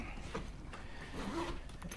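A motorcycle bag's zipper rasps open in short, quick pulls close by, with faint rustling of fabric around it.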